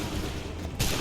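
Soldiers fire a musket volley in Assassin's Creed 3, heard as a thick, fairly faint wash of crackling shots that ends in a sharper burst near the close of the short moment.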